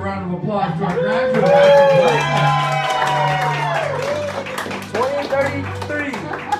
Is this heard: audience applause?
yes